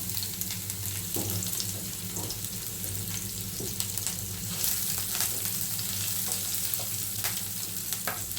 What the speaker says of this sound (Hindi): इधर हमने डाल लिया है 4 चम्मच बड़े चम्मच से तेल। अब इसमें हम डाल देंगे कटी हुई मिर्च।